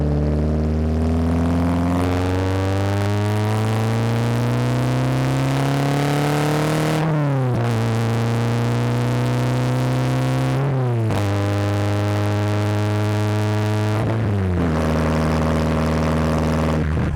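A 2000 Peugeot 306 Cabriolet engine idles then revs up repeatedly, pitch climbing steadily before dropping back between gear shifts, loud and close throughout.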